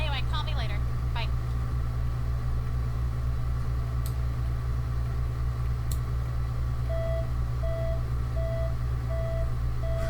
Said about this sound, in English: Why are you beeping? Usually things beep when they're empty, but it wasn't empty.